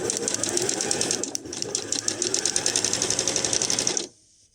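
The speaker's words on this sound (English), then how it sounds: "And now you're just going to sew right around." A sewing machine stitches around a handmade lace tablecloth in a rapid, even mechanical rattle for about four seconds, close and clear, then stops abruptly into near silence.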